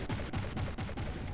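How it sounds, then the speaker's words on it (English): Missile strike hitting a ship in a robot combat video game, a rapid volley of sharp, evenly spaced blasts and impacts, loud and close over about a second and a half. "the missile strike hits the Omega Nightmare"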